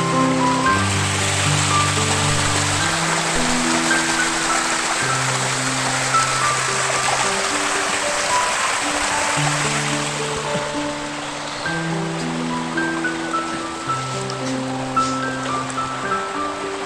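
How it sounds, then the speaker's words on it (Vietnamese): Cold mountain stream water flows out of a rock crevice in the forest with a constant rushing noise, while steady music plays over it. "Cái nước này trong khe nó chảy ra."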